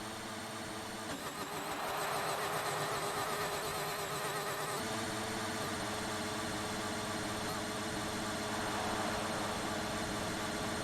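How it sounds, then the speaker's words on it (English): Faulty Formula 1 car engine in the F1 2019 game at the Hungarian Grand Prix, a continuous rough, strained mid-pitched drone with broadband roar that holds steady and loud throughout. "Something wrong with Mender's engine by any chance?"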